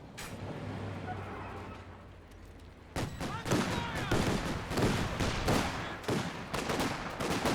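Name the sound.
gunfire from Company of Heroes 2 video game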